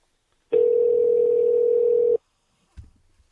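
A steady telephone tone rings out for about a second and a half on a jail phone line right after the caller hangs up, then cuts off abruptly, followed by a brief soft clunk.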